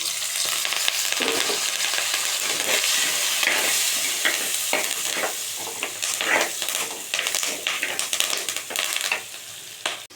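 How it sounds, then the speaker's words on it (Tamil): Onions and curry leaves fry in oil in a pan for a fish curry, a steady close sizzle broken by scraping and clinking as a spoon stirs them, with no talking. "வெங்காயம் சேர்த்துக்கிட்டு நல்லா பொன்னிறமாக வர மாதிரி லைட்டாக வதக்கி எடுத்துக்கலாம் இப்போ அடுத்து கருவேப்பிலை"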